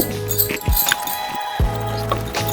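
Dry semolina, flour, baking powder and soda stirred together in a bowl for an eggless rava cake, giving light clinking and scraping taps of a spoon against the bowl over steady background music.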